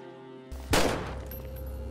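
Gunfire in GTA V at the Area 51 base: one sharp, loud burst of shots with a brief ringing tail over steady in-game background hum.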